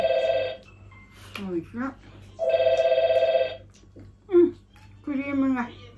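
A telephone rings in repeated long electronic bursts, each about a second, between snatches of casual talk during a relaxed autumn snack of coffee and cream pastries.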